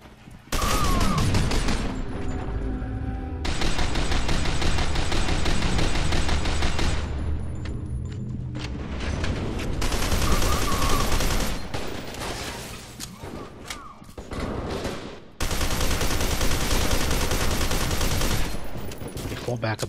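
Sustained assault rifle fire in F.E.A.R. 2: Project Origin on Hard, loud dense bursts of automatic shots in several long stretches with brief pauses between, near and continuous.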